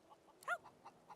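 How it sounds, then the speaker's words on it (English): Chickens in the video game Divinity: Original Sin 2 give a single soft cluck, with a few fainter clucks around it against a quiet background. "Hello, chickens."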